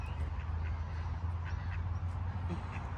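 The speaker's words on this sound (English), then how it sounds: "I've never been this close to wild ducks before." Wild ducks at a beach give soft, scattered quacks near at hand over steady wind and surf noise, the calls faint and partly buried in the constant rumble.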